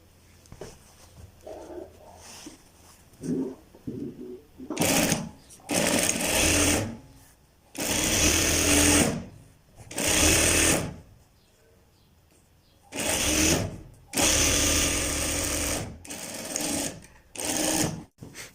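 Sewing machine stitching fabric pieces of a child's pajamas together, running in several loud bursts of a few seconds each with short pauses between, quieter handling noises in the gaps.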